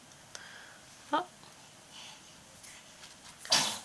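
A short, sharp sneeze bursts out of a quiet room, followed by a second louder sneezy snort a couple of seconds later.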